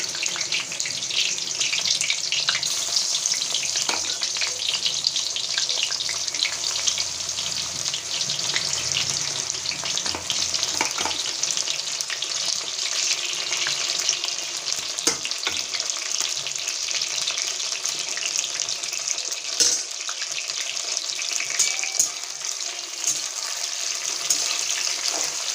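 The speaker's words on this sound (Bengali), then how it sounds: "একটু ভেজে নেবো মাশরুমগুলো।" Mushrooms frying in hot oil in a pan for a masala mushroom dish, giving a steady close sizzle with faint stirring scrapes throughout and no talk.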